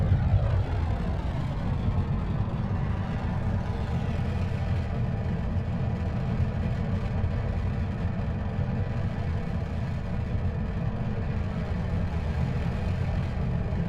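A throaty rocket engine rumble from the video game Kerbal Space Program, a steady deep droning roar that holds loud and unbroken for the whole stretch.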